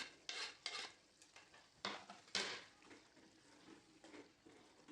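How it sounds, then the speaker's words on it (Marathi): A spoon stirs cluster bean (gawar) curry in a pan, several scraping strokes in an uneven rhythm, close and fairly quiet, with a soft simmering hiss beneath. "भाजी छान मिक्स करून घेऊया"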